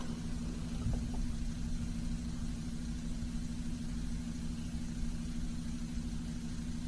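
A small fishing boat's motor runs steadily as the boat spins in circles, giving a constant low drone and rumble that stays even and moderately loud throughout, with no talking.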